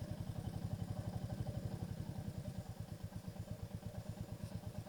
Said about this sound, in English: You can enjoy the purring of that motorcycle engine.